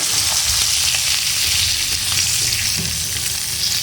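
Salted hilsa fish sizzles hard in hot oil in a pan, a close, loud and unbroken crackling hiss with no voices.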